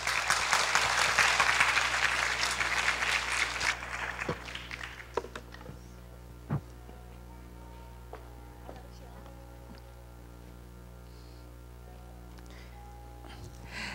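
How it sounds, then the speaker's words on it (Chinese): Applause from a lecture-hall audience welcoming a guest lecturer, loud and sustained for about four seconds before tapering into scattered claps and a low mains hum. "让我们掌声欢迎文茜教授"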